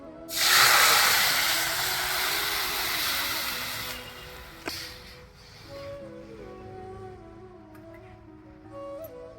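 Cooked lentils poured into a hot tempering of dried red chilli, black mustard seeds and curry leaves, a loud burst of sizzling hiss that fades over several seconds into a quieter crackle, no talking.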